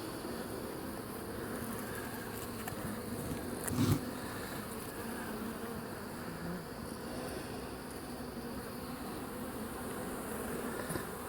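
Steady dense buzz of many honey bees at an opened hive, a continuous close drone with a brief louder swell partway through.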